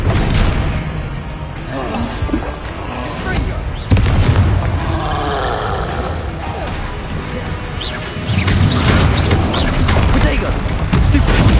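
Booming blasts of the Bombarda explosion spell in Hogwarts Legacy, several heavy crashes and rumbling impacts layered with combat noise, loud and close.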